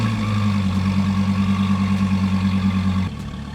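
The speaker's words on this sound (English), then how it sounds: "let's hear the world's quietest warm start" Dodge Viper engine idling after a warm start, a steady, smooth low hum with a strong even drone that drops slightly in level near the end, no voices over it.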